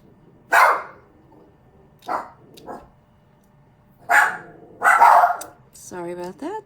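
Dogs in a home bark in scattered loud bursts: a single bark, a pair, then two more close together, ending in a higher, whining yelp.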